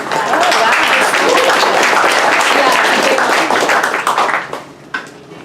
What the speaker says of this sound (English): huge round of applause for Chuck